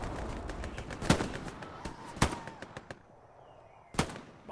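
Kar 98 bolt-action rifle shots in Hell Let Loose, three sharp, loud cracks spaced about a second apart over a busy background of distant battlefield gunfire.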